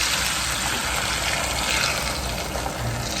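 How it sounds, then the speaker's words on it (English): Beaten eggs pour into a hot skillet for a sardine and egg omelette, producing a loud, steady rushing sizzle that stays even for a few seconds without talk. "Pour them into the skillet."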